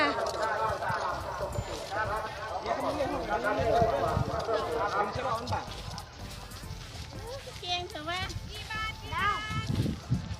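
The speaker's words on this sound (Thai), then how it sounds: "คนขี่ม้าค่ะ" Horses clip-clop past at a steady walk with riders on their backs at a Thai flower garden outing, hooves fairly close, while people talk and chatter throughout.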